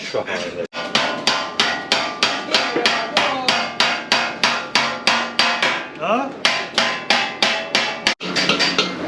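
Rapid, steady hammer blows strike a chisel against metal in Tripoli, Libya, each a sharp ringing clang, repeating in a quick even rhythm with a brief pause.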